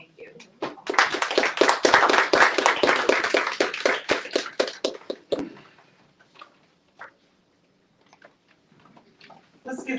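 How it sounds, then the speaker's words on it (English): Audience applause after a book reading event, a dense burst of clapping for about five seconds that cuts off abruptly, followed by quieter room sounds and scattered taps. "Let's give her another round of applause."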